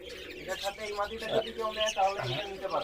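Pigeons chirp and coo among caged birds at a bustling pigeon market in Khulna's Big Bazar, close and overlapping, with people talking nearby.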